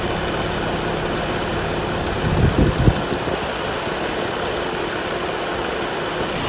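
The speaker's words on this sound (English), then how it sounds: "Radiator fan." A Jeep Wrangler JL with the 3.6L Pentastar engine idles while its radiator fan runs, a steady broadband whoosh and hum throughout, close, with a brief low knock partway through.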